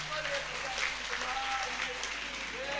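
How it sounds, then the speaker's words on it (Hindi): An audience at a live religious discourse claps in a sustained, even wash of applause, with a voice carrying over it. "आप लोग जिस प्रकार से तालियां बजा रहे हो ना"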